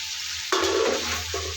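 Previously fried potatoes being sautéed in a pan with cooked-down masala for aloo dum: a sudden close, loud sizzle as they go in, then continuous hissing and stirring over a low hum.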